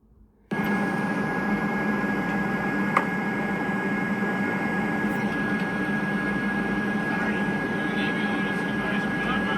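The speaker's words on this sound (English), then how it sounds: "This is the third country in 3 days to welcome 47 with fighter jet escorts." Steady loud roar of Emirati F-16 fighter jets flying as an escort, a continuous wash of engine noise that persists throughout with no break.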